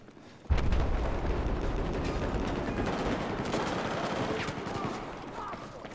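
Sustained automatic gunfire from a Battlefield 4 team deathmatch on the Zavod 311 map, breaking out abruptly after a brief quiet and rattling on loud and dense to the end, with no talk over it.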